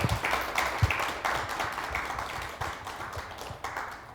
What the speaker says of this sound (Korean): 나를 위해서 그리고 옆에 있는 팀을 위해서 큰 박수 한번 부탁드리겠습니다